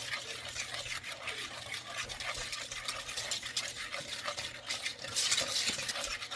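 A whisk stirs a dry mix of flour, sugar and salt for banana pudding, giving close, steady scraping strokes against a bowl with a brisk, continuous rhythm.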